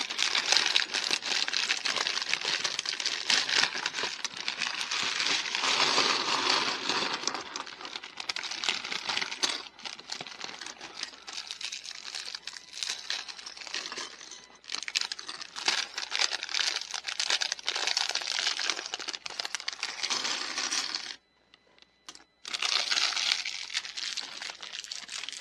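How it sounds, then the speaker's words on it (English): Plastic bags of Lego pieces being torn open and emptied, a long close run of crinkling plastic and rattling, clicking bricks, with one brief quiet pause near the end and no talking. "let's open this up. I'll be quiet, and we'll dump out all the pieces"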